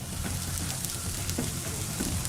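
Food dropped into hot oil for a quick oil blanching while cooking selat solo, giving a steady crackling sizzle with scattered pops and spits throughout, close by and without talk.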